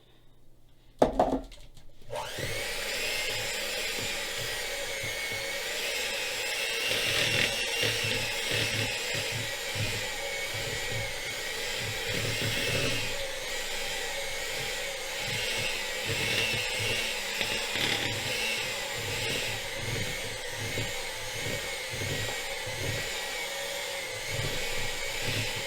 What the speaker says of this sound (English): Beat in the vanilla and the milk until combined